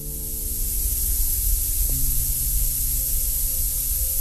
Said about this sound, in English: The sounds you are hearing are the relief valves cycling old air out of the